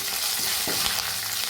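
Curry leaves, ginger and garlic frying in hot oil for a chicken stew, a steady close sizzle with a brief stirring scrape partway through, no voices.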